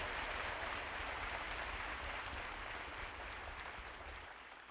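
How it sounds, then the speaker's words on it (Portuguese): A church congregation at a novena gives a round of applause, broad steady clapping that starts full and slowly fades toward the end. "Agora uma salva de palmas para aqueles que rezam conosco lá de casa"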